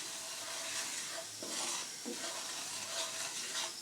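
Wheat flour and semolina roast in ghee in a pan for an easy sweet. A steady soft sizzle runs throughout, with gentle scraping from stirring now and then and no voices.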